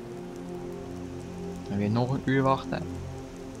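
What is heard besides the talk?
rain in the video game Skyrim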